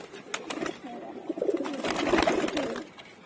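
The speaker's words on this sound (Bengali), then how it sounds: "এই যে এই কবুতরটা আমার বাসায় সবার আগে আসে" Domestic male pigeons coo close by in a home loft, soft rolling throaty calls that overlap and swell toward the middle, with light rustling and faint background noise.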